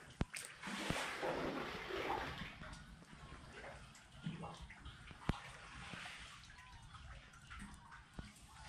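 Water splashes and sloshes softly as someone swims, with gentle irregular ripples, faint drips and a few sharp splashes close by, all quiet and under light ambient noise.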